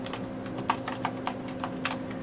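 Fingers typing an Excel formula on a computer keyboard, a quick uneven patter of light key clicks over a steady electrical hum, close and moderately quiet, with no voices.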